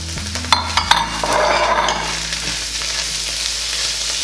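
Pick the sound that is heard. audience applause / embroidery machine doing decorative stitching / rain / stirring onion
stirring onion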